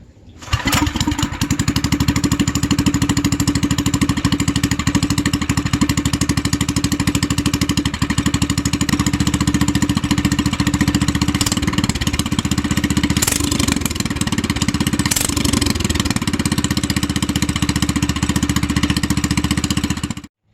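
A small minibike engine cold-starts, sputtering to life with its exhaust removed, and keeps running at a steady, buzzing idle close by, loud and continuous for about twenty seconds.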